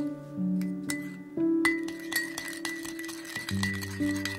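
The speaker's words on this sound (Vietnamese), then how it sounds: "Khuấy đều lên." Spoon stirring a sauce mixture of seasoning, sugar, MSG, pepper and chili sauce in a glass bowl for squid stir-fry, giving repeated light clinks of metal against glass over a steady background tone.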